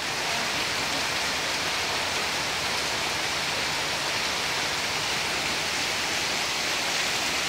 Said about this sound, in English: Are you filling it up with water, sweetheart?